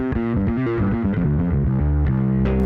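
A Darkglass Electronics Kaamos octaver and distortion bass pedal plays a loud, continuous run of distorted bass notes, each shifting pitch in steady succession, with no voices.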